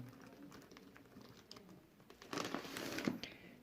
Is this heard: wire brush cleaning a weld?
no